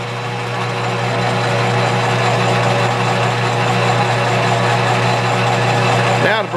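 A metal lathe motor hums steadily under power feed with a constant mechanical whine and faint rhythmic chatter, running evenly and close by until it cuts off abruptly.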